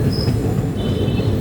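A passenger train runs along a high mountain railway on the Madurai to Kollam line, giving a steady, loud rumble of wheels and carriages with faint squeals, continuous and close, with no talk.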